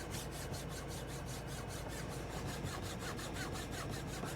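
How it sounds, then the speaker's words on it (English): Fingertips rub back and forth across the textured, carbon-fibre-style interior trim of a 2025 VW Golf 8.5 R-Line, making a quiet, steady scratchy rasp with a rapid repeating stroke rhythm. "So if you slide your fingers around, it makes that noise because it is quite distinctively textured."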